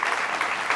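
A brief burst of audience applause in a Hindi television debate studio, clapping for a new cancer hospital, heard as a short, even wash of many hands.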